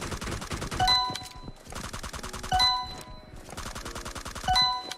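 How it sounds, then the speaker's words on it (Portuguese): Gunfire at pop-up targets in the PUBG Mobile training mode of the video game: three bursts of rapid shots spaced about two seconds apart, each followed by bright metallic ringing dings, fairly loud and with no voices. "E a gente vai atirar."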